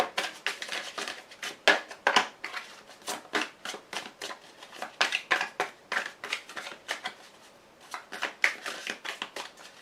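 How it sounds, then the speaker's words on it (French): Oracle cards are shuffled by hand in a rapid run of crisp riffling snaps, close and dry, with a brief pause before the shuffling resumes. "Je vais vous rajouter une carte de l'oracle bleu."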